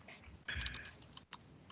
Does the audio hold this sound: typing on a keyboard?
yes